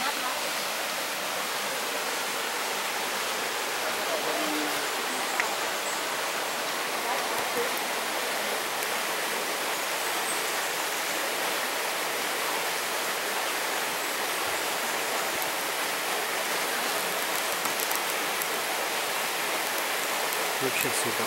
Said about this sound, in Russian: Вот она, горная подземная река выходит из горы.